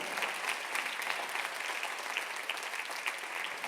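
A church congregation claps loudly and steadily, a dense wash of many hands applauding together with no voices rising above it.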